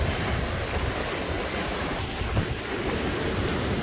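Ocean surf rolling onto a beach, a constant broad wash of breaking waves with no separate crashes, moderately loud and unbroken throughout.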